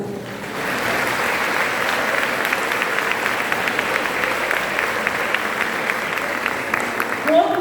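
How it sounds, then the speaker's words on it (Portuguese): A church congregation at a women's congress applauds steadily, a dense wash of many hands clapping that holds at an even level throughout, with murmuring voices mixed underneath. "Aplauda o Senhor."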